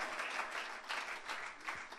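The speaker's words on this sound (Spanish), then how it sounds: "Denle un aplauso fuerte al Señor" Steady applause from a church congregation, a broad wash of many hands clapping at once with slight surges in intensity, fairly quiet and distant, no voices on top.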